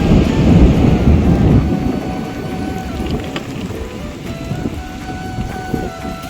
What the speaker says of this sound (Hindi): बिजली बड़ी सख्त है बारिश तेज आएगी आज।